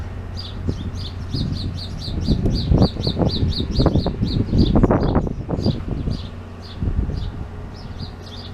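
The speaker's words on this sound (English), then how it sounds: "Little derpy birdies." Small birds chirp in quick repeated high tweets on a beach at Gonzaga Bay on the Sea of Cortez, heard over low rumbling wind and ambient noise.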